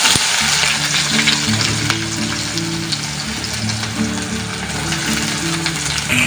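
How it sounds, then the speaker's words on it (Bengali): Onions frying in oil with cinnamon and torn stone flower hiss in a steady, close, full sizzle that holds evenly throughout, with a low tonal hum running underneath. "পেঁয়াজগুলো একেবারে লাল লাল করে ভেজে নিতে হবে।"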